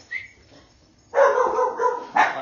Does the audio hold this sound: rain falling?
no